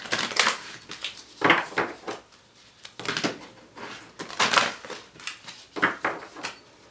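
Repeated rough, papery shuffling bursts of large tarot cards, close and fairly loud, coming in uneven groups of two or three with brief pauses between.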